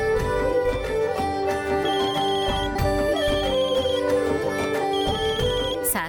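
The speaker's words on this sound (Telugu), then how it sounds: "శాస్త్రి గారు ఫోన్ చేస్తున్నారు" A telephone ringtone signals an incoming call, repeating its bright electronic melody in steady cycles at a constant loud level, with no voices over it.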